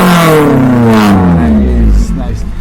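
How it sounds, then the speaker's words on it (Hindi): A modified Maruti Suzuki Zen with a swapped 1.3 L engine revs up, its note rising and falling over a couple of seconds, loud and close, with voices talking over it. "Crank the engine bro, let me here the sound."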